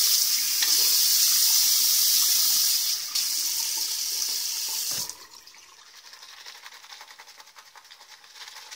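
A tap runs steadily into a sink while shaving, a loud, close rushing hiss that ends abruptly partway through, leaving faint room noise with no talking.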